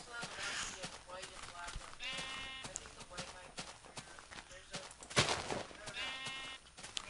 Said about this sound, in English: Oh, the sheep just ate stuff.